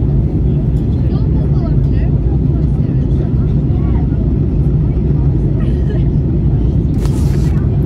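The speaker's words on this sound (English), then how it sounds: "Pilot's just gonna turn out to sea and go around in a big loop to line the plane up for its final" Airplane cabin on final approach and landing near Barcelona, with a constant loud low engine drone and rumble filling the whole stretch, a brief brighter whoosh near the end.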